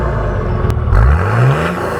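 A car fitted with a 3-inch straight-through Manta exhaust and resonator revs up, the engine note rising in a loud, close sweep over a steady rumble.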